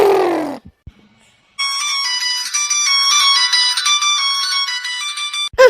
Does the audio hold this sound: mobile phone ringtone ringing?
yes